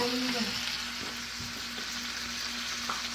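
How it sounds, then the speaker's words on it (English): Cabbage, onion and bacon fry for yakisoba on a hot pan with a continuous close sizzle, joined by intermittent stirring scrapes and light clatter of the utensil. "We are going to add a mixture of cabbage, onion, pork belly, which in our case, bacon"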